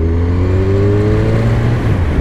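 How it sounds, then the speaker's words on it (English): A Kawasaki Ninja 1000 inline-four motorcycle exhaust drones loud and steady while riding, its tone rising slightly as the engine pulls, with a constant rush of wind underneath. "This exhaust note. This scream of the inline four."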